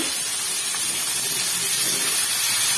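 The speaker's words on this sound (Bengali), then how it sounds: "তো কড়াইটা গরম হলে পেঁয়াজটা দেব।" Chopped onions dropped into hot oil in a kadai hiss and sizzle steadily, a dense bright crackle close by with no talking.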